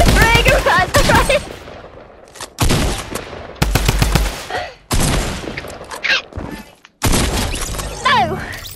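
Tommy gun firing in Fortnite, several loud rapid automatic bursts separated by short pauses, with a player talking between volleys.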